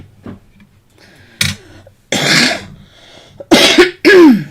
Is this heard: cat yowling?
no